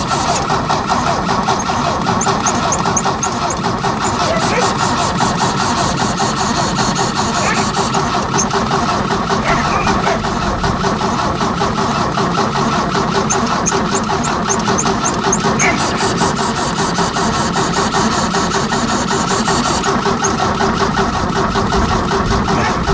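An R10 engine that sat for more than 20 years turns over and runs on aerosol starting spray. A loud, steady mechanical chatter carries on throughout, with a thin squeal riding on top.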